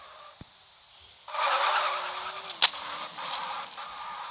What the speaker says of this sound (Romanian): Și da, mașina asta merge cu 1000 la oră.